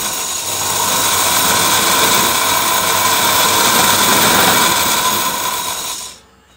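A sewing machine's balance wheel spins fast to wind thread onto a bobbin by hand, a loud, continuous whirring rattle that runs steadily for about six seconds before abruptly stopping.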